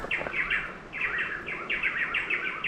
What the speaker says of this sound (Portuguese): Cheio de pássaro aqui, cara.